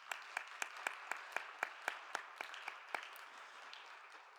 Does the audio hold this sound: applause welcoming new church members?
yes